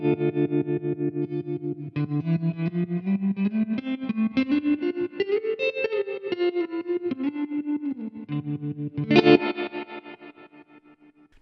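An electric guitar played through a 1972 Fender Super Reverb amp with tremolo and reverb on, notes pulsing in a fast, even throb as a sliding line rises and falls before a final strummed chord rings out and decays.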